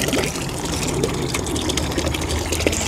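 Water runs and trickles steadily from a small 10W solar water pump, a constant splashing flow without pause.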